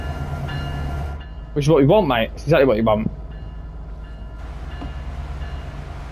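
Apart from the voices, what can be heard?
train running slowly in a train simulator video game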